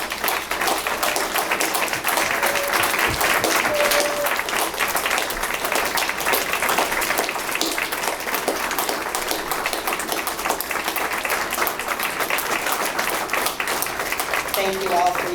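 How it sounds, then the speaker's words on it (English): Sustained audience applause at a V.F.W. post's 75th anniversary event honoring veterans and armed forces members, a dense steady roar of many hands clapping that fills the whole stretch at full, even loudness. "A big round of applause for all of our heroes."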